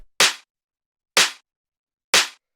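A layered tech house clap sample made of two claps stacked together, one high-passed, hits three times at an even pace, each sharp and bright with a short decay and silence between hits.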